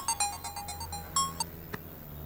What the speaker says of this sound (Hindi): A phone calling pickup.